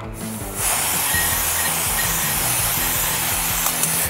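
A strong hissing spray of water rinsing a 2019 Kawasaki Ninja ZX-6R motorcycle chain starts after a brief pause and runs on steadily, loud and close, over a low background hum.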